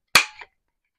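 A corner rounder punch cutting the corner off paper, a single loud, sharp snap with a brief trailing clack, alone in an otherwise quiet moment.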